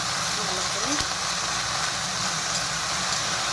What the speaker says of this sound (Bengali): ভালো করে একটু ভেজে এখন আমি এটা ঢেকে দেবো।